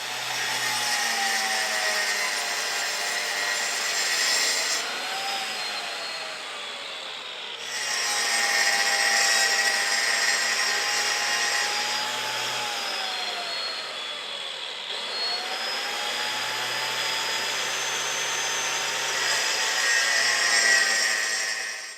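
A high-RPM power tool cuts circles with a steady, close whine that shifts slightly in pitch. It runs in three long passes separated by brief dips in sound.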